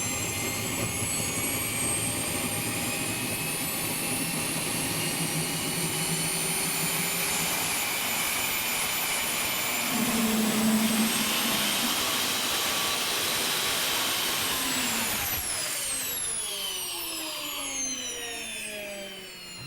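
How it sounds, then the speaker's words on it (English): A tethered model aircraft jet engine runs indoors in a studio, a loud, steady, close whine with a rising pitch near the end as it spools. "It is the only model aircraft in the world with a working jet engine."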